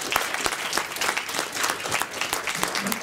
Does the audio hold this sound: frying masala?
no